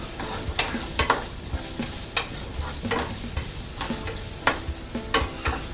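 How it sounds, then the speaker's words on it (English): Chopped onion stirred in hot oil in a pot for a potato lentil stew, with a soft continuous sizzle broken by repeated clacks and scrapes of the spoon against the pan. "Stir it around so that all the onion gets covered in oil."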